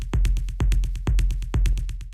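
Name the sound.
amp effect distorting techno rumble kick delay repeats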